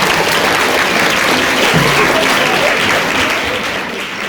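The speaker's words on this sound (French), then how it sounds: "on les applaudit très fort" An audience at a school event claps loudly and continuously, the dense applause fading slightly toward the end.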